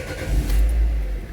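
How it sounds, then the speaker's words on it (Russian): Lada Largus engine cranks and catches, a short loud low-frequency rumble that swells and settles into a steady idle nearby, with no one talking. "Завели машину."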